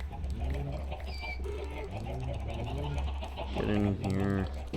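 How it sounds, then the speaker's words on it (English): Minecraft chickens clucking in short repeated bursts, several overlapping and growing busier toward the end, heard over a low steady hum with a voice talking at times. "I may have to thin the herd on the chickens."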